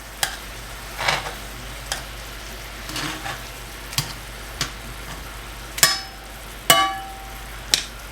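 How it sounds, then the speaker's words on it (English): Enoki mushrooms sizzle in a frying pan under a soft steady hiss, punctuated by sharp clacks and scrapes as they are flipped over, with no voices. "we're going to go ahead and flip these again back to the original side"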